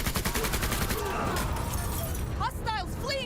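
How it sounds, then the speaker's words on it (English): Chain gun fire in the tactical video game Menace, a dense rapid stream of shots under constant background noise, with a voice speaking briefly near the end. "Fire the chain gun"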